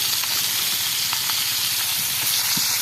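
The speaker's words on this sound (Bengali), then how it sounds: "আমাদের কঠিন মাছ ভাজতে আছি" Fish frying in oil on a stove, a loud steady hissing sizzle with faint crackles throughout, close up and without talking.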